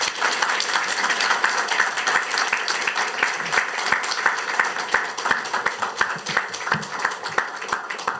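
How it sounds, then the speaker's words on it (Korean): A church congregation at a Wednesday service claps loudly and continuously to welcome a pastor to the front, a full, dense applause with some sharper individual claps standing out and no talking. "우리 나오실 때 큰 박수로 환영하겠습니다."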